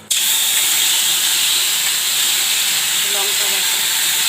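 Spices and ginger paste dropped into hot oil for tempering, bursting into a loud, dense hiss that starts abruptly and holds steady and close throughout, with faint voice-like sounds near the end.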